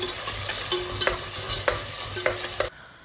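Onions sizzling in a hot pan with a pinch of salt, steady frying hiss broken by several scraping stirs of a spoon, close and clear, ending abruptly, with no talking.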